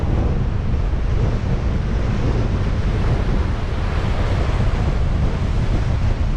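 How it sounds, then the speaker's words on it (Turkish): Heavy sea surf roars steadily under strong storm wind buffeting the microphone beside a caravan, a dense, loud wash of crashing waves with no voices. "Valla dalgalara bak."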